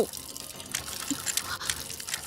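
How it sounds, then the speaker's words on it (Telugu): A leaking household water tap drips into a sink, sparse scattered drops and small splashes under a low background hum, fairly close but quiet. "నువ్వు ఫోన్ చేసినప్పటి నుంచి ఆ ట్యాప్ కారుతూనే ఉంది"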